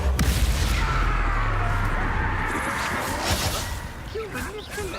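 Booming blast of the Confringo fire spell in Hogwarts Legacy, a loud burst at the start rolling into sustained rumbling and crackling, with voices talking over the aftermath.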